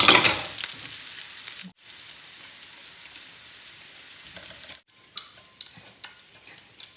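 A burger patty sizzles and crackles loudly in a hot pan, a steady frying hiss with brief breaks and a few stirring scrapes.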